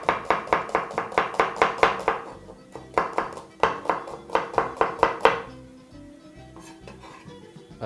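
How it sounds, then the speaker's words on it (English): Onions being chopped into half moons on a cutting board for chicken fried rice, steady rapid knife knocks in quick bursts with brief pauses, close and clear with no speech. "begin firstly with chopping your onions into some half moons."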